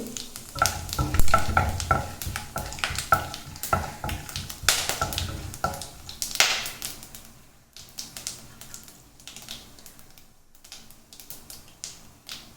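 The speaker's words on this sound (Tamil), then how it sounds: "இப்போ நம்ம தாளிக்கிற அந்த பட்டை எல்லாத்தையும் அதில் போட்டுடலாம்" Hot oil crackles and sizzles as whole spices, including cinnamon and fennel seeds, are stirred in a pan, busy and close at first, then settling into a softer, steady fry.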